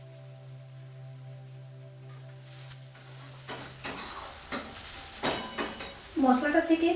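Spice paste with a little water is stirred in a frying pan for a cabbage curry. A steady hum gives way to scraping stirs and soft sizzling, which turns into louder, bubbling frying toward the end.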